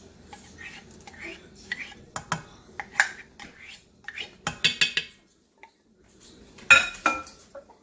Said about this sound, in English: We're going to go and put this butter flour concoction in here.